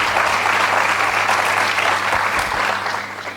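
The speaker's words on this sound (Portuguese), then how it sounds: "A primeira salva de palmas para o Mia e agora dão a segunda." Audience applause at a literary café event with author Mia Couto, a dense, steady clapping from a live crowd that holds loud throughout and eases off slightly at the end.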